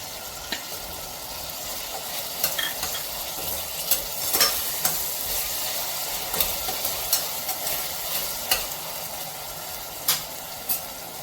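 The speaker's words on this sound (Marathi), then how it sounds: "दोन झाले की आपण बटाटे टाकून घेऊया" Potatoes fry in a pan for vegetable pulao, a soft continuous sizzle broken by sharp clicks and scrapes of a spoon stirring against the pan.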